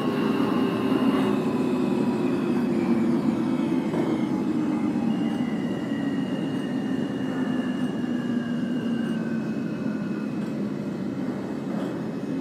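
A simulated NYCT R160A Alstom F subway train runs steadily, its motors whining with gliding pitch tones over a continuous rumble and track noise.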